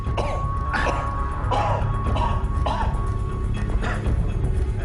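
A person coughs repeatedly in a loud, busy setting, the harsh bursts coming in an uneven series over a steady background hum.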